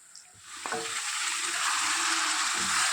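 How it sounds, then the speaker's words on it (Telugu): Cleaned chicken pieces drop into hot tempering oil with a brief clatter, then a loud, steady sizzle of frying builds and holds close by, with faint stirring knocks. "ఈ శుభ్రం చేసుకున్నటువంటి చికెన్ని ఇప్పుడు మనం తాలింపులో వేసుకుందాము"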